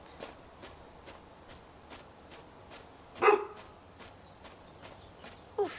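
A rhythmic series of soft taps during a seniors' gym class, with a single short dog bark partway through and another brief yelp near the end.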